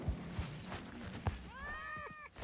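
A cat meows several times in quick succession in the video game Goat Simulator, clear and close, with soft footstep-like thumps beforehand and no talking.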